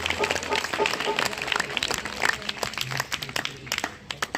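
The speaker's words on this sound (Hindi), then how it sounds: "जोरदार तालियां बजाओ" An audience at an Indian devotional gathering claps loudly and steadily in dense, sustained applause, with a voice talking over it throughout.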